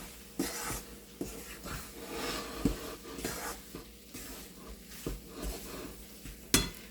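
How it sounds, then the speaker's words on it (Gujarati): Jaggery being stirred as it melts in a pan for sukhdi, with a spoon scraping and clinking against the metal in irregular strokes, soft and close, with a faint sizzle underneath. "ગોળ ઓગળી જાય ત્યાં સુધી આપણે હલાવતા રહીશું."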